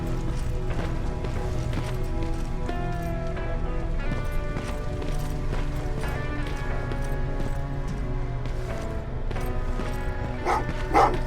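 Dogs bark repeatedly in Terminator: Resistance, a series of sharp barks and yips over a steady bed of game music and ambience, moderately loud and fairly close, without talk.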